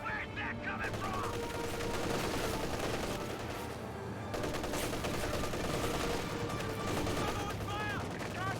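Gunfire in the World War II strategy game Company of Heroes 2 crackles continuously, a dense mix of rifle and machine-gun fire at steady volume, while units call out over it.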